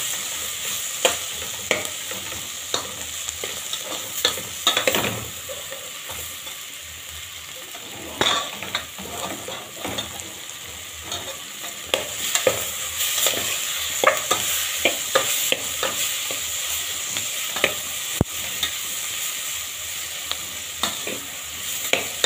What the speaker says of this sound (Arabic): طبعا ده ثوم متفرز، هديله تشويحه كده مع البصل